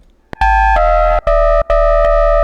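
A Serum synth patch with a sine oscillator frequency-modulating the first oscillator, playing loud sustained buzzy tones that step in pitch, cut by two short gaps, after a faint click at the start.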